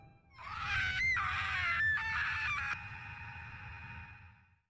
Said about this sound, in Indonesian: tiba-tiba terdengar suara jeritan